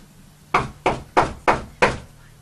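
Five evenly spaced knocks on a door, sharp and close, each ringing briefly before the next, with silence afterward.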